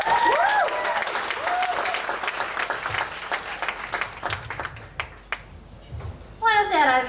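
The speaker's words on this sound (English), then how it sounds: "So please give a warm applause to Cristina." Warm applause from the audience at a PechaKucha Night storytelling event in Ubud, Bali, welcoming a performing-arts speaker to the stage; dense clapping fills the room with voices mixed in, then fades near the end as a whistle or cheer rises over it.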